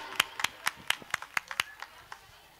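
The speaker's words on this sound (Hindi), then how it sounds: "तो जोरदार तालियों से स्वागत कीजिए आफिया एहसान जी का" Sparse, slightly uneven applause from an audience welcoming a poet at a kavi sammelan, about a dozen distinct claps that fade off near the end.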